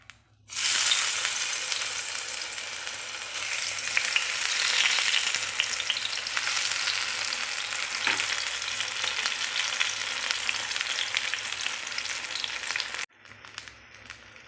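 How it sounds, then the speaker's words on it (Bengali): Eggplant slices fry in hot oil in a pan, a loud and steady sizzle that starts abruptly, keeps on for about twelve seconds and then cuts off sharply. "তেলটাও গরম হয়ে এসেছে এবার আমি বেগুনগুলো ভেজে নেবো"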